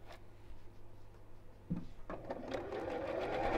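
A sewing machine stitches fabric for a half-yard sewing project. It starts up partway through with a soft, quiet whirring hum that builds and runs steadily to the end.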